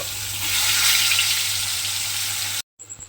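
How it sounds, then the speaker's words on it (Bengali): Pointed gourd pieces frying in hot oil give a loud, steady broadband sizzle that runs unbroken, then cuts out abruptly near the end before quieter crackles resume. "প্রথমে আমার এই গরম তেলের মধ্যে পটলগুলো দিয়ে একটু লাল করে ভেজে নিতে হবে।"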